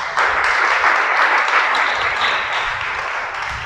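An audience at a religious sermon breaks into loud, dense applause that starts abruptly and carries on steadily before easing slightly toward the end.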